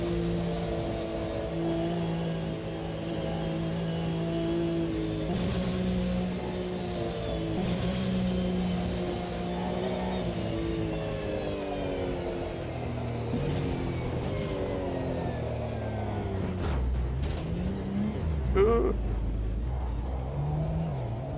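A Porsche Cup 4.0 race car engine in a racing video game on the Nordschleife hums with a steady, harmonic whine that climbs and falls through the gears. The tone sounds thin and almost electric, with a rumble underneath.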